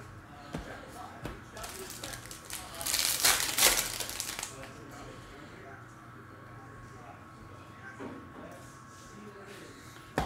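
A trading card is slid into a thin plastic sleeve, a crisp crinkling rustle of plastic that swells for a second or two and then fades, with scattered handling taps and a person speaking around it.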